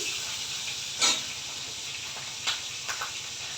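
A fish head fries in a pan with a soft, continuous hiss, marked by a few brief louder spits; the sound stays faint and has no speech over it.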